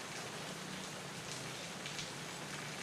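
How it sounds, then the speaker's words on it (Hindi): Steady rain falls in a dense, even hiss with no break in its rhythm, fairly faint and heard alone. "ये बारिश हो रही है"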